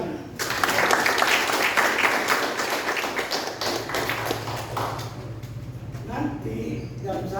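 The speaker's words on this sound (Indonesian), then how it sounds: "Tepuk tangan." A church congregation claps together after a service's closing blessings, dense and steady at first, then thinning as a voice and a low sustained tone come in near the end.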